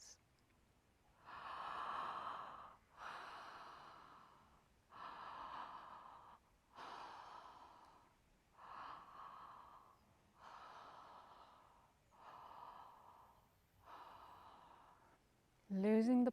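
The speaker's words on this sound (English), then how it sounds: "opening the mouth fairly wide and breathing in and out through the mouth in a connected rhythm" A person does connected breathwork, breathing in and out through a wide-open mouth in a steady rhythm of about eight breaths, each a close, breathy rush with no pause between.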